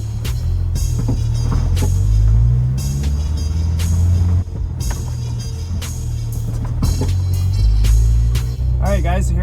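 An Acura CSX sedan on Maxpeedingrod coilovers drives along, with steady low engine and road rumble throughout and a few brief interior knocks and thumps.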